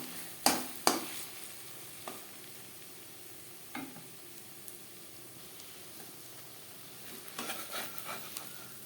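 Eggs frying in a pan on a medium flame sizzle softly while a spatula stirs them, with a few sharp scrapes early on and a cluster of clinks near the end.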